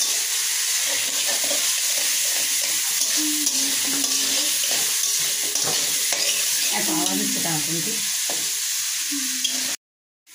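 Spices with salt and turmeric sizzle steadily in hot oil, a continuous loud frying hiss with occasional stirring scrapes, ending abruptly.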